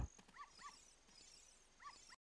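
A dog in Zelda: Ocarina of Time gives short, faint whimpers and yips, heard three times in small pairs over a quiet background.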